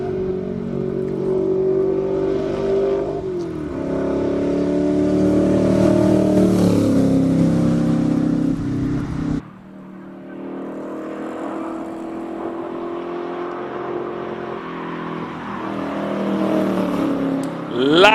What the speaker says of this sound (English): the drivers are starting to warm up those rear tires a little bit more aggressively